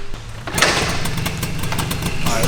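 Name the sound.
BMW E30 drift car engine cold start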